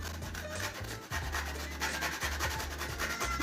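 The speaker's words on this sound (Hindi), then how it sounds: "गरी को भी कद्दूकस कर लेंगे।" Dried coconut being grated by hand for a Seviyan mithai, heard as steady close rasping strokes in quick repeating rhythm, loud and continuous with no talking.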